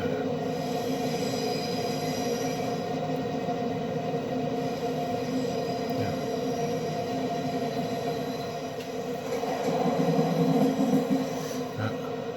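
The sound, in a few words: BB 22200 locomotive train running in video game Train Simulator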